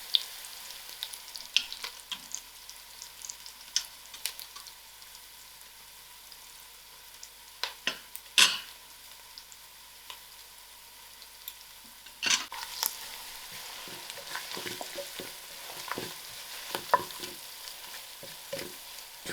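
Masala spices frying and being stirred in a pan, quiet sizzle broken by scattered scraping clicks of a spoon against the pan, sparse at first then busier toward the end.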